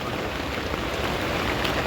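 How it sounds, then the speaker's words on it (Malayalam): Heavy rain pours down outside a parked car near a tea shop, making a dense, unbroken hiss with no pauses. "അപ്പൊ ഇവിടെ ഭയങ്കര മഴ"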